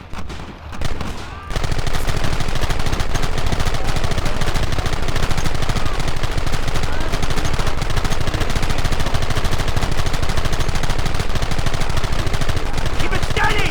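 Nonstop heavy gunfire fills a battle in the remastered Red Dead Redemption video game, a loud dense barrage of overlapping shots that starts after a brief quieter opening and carries on without letup.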